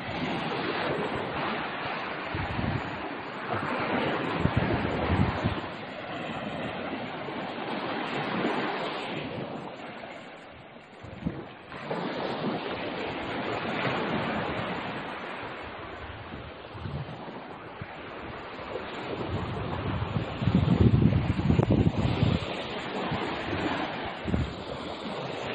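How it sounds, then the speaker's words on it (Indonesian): Ocean waves break and wash along a long, hot, empty tropical beach, a continuous roaring surf with swelling crashes, blended with gusts of wind buffeting the microphone. "Ini ombak."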